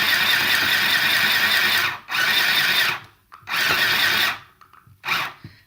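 A sewing machine with no reverse stitch runs loudly in three bursts of rapid whirring, with brief pauses and clicks between runs and no talking.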